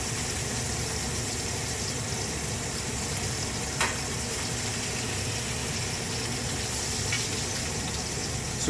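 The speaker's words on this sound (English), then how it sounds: "As this sears, it'll release itself from the pan." Flank steak sears in a hot stainless steel pan with a steady, even sizzle that holds throughout, faint and unbroken apart from a couple of small ticks.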